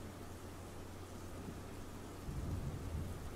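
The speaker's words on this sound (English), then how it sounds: "this hour-long version has, like, rain sound effects to it" Steady rain hiss with a low rumble of thunder building toward the end, blended into looping video game background music, faint and continuous with no talk.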